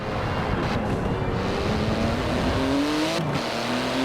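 A 700-horsepower 3.8-litre twin-turbo flat-six sports car in Forza Horizon 4 drones steadily and loudly throughout, its engine pitch climbing as it accelerates, with a brief dip near the end.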